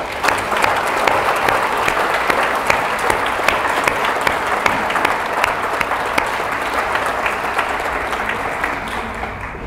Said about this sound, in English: let's give a round of applause to librarians, past and present